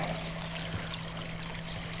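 Water pours steadily out of a full koi pond in Devon, a continuous close rushing flow with a low hum underneath and no breaks.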